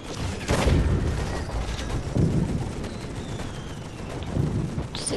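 Gunfire and blasts on a Toy Soldiers battlefield: a sharp bang followed by rapid crackling shots and a few dull booms, moderately loud and irregular.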